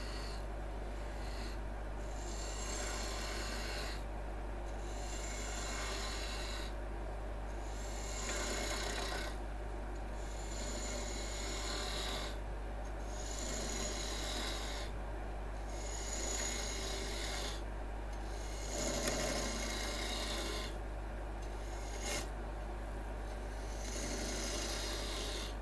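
A wood lathe spinning at 2000 RPM hollows a wooden ball, the tool rasping and scraping in repeated strokes over a constant low motor hum, steady and moderately quiet.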